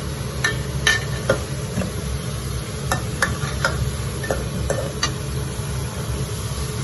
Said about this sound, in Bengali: এখন আমি আলুগুলো ভেজে নিচ্ছি লাল লাল করে, তারপর কপিগুলো ভেজে নিব।